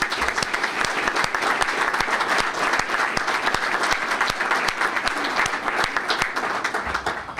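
Steady, loud applause from an audience at a State of the City address for the police department, a dense wash of many hands clapping without pause for several seconds.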